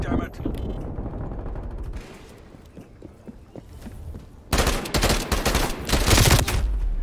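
Burst-fire rifle shooting in the video game Call of Duty Black Ops Cold War multiplayer, with rapid loud bursts of shots that become dense and intense in the second half, mixed with game mechanisms and effects.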